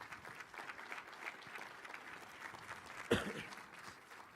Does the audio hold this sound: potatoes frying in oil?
no